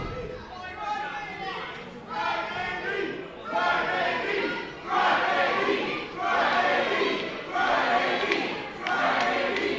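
A wrestling crowd at an indie show roars and chants in rhythmic waves of jeering voices directed at a wrestler, loud collective shouts rising and falling in repeated bursts.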